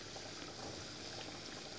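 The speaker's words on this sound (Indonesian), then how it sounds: "Here I'm still frying for fried onion." Red onion coated with a little flour fries in oil over a small fire, giving a steady, dense, quiet sizzle with no break.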